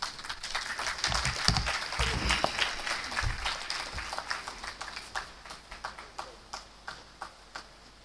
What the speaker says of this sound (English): let us give another round of applause to the DG